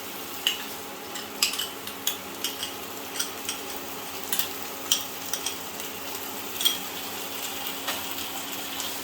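Beaten yogurt stirred into katla fish frying in a pan, giving a soft steady sizzle with scattered clinks and scrapes of a spoon against the pan, with no talking.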